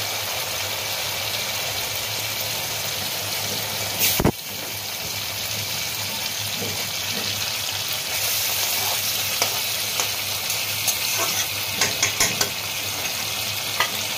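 Pieces of hilsa fish hit hot oil in a pan with a sharp crackle, then a steady close sizzle of frying continues throughout, with occasional light pops and stirring.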